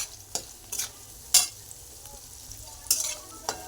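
Salted potato pieces frying in oil for sabudana khichdi, a low background sizzle with several distinct spatula scrapes and clatters at irregular intervals, close and fairly quiet.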